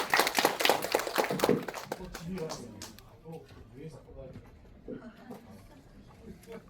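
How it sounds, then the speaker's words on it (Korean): A cinema audience at a film screening talk with actors and a writer breaks into a burst of clapping that is loud at first and then thins and fades within two seconds, after which a voice speaks over a quiet room. "오늘 참여해주신 배우분들 그리고 작가님에게도 또 한 번 박수 부탁드립니다"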